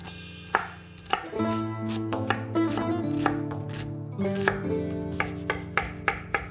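Onions are chopped with a knife on a board for a belyashi filling, giving a steady run of crisp knife strikes over a low, tonal background that lingers throughout.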